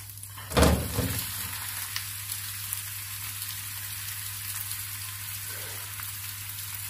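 Fish added to a hot pan with green onion for fish yakhni, giving a loud sizzling burst near 0.6 s that settles into a steady, softer frying hiss with a faint background hum.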